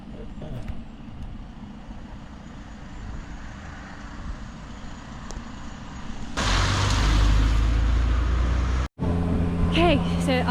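A broken-down camper van's engine revved with the accelerator held in a UK national park, a low droning idle that swells into a loud sustained roar, with people talking over it.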